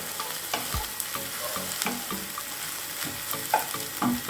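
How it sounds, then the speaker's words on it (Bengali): Noodles frying in a pan with onion and chili for homemade egg chicken chow mein, a steady sizzle broken by repeated scraping and clanking stirs of the spatula, close and fairly loud, with no talking. "এরকম করে ভেজে ভেজে নুডলসটা ছেড়ে দেবো।"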